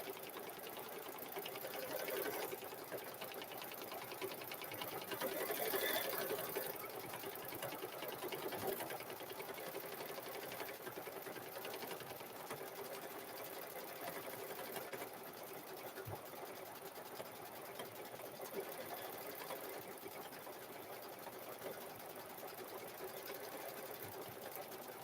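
A sewing machine stitches a cow-themed quilt through the backing fabric, its motor whirring in a steady, continuous run that stays close and even throughout with no talking.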